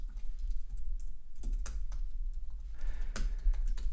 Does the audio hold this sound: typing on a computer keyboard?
yes